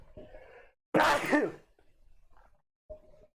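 A single loud sneeze bursts out alone, with quieter breathy sounds before and after it.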